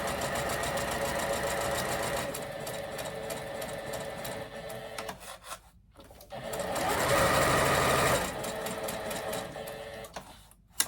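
A sewing machine, worked by foot pedal, stitches a fabric Christmas gift card holder in steady whirring runs. It pauses briefly midway, then runs louder and faster before stopping near the end.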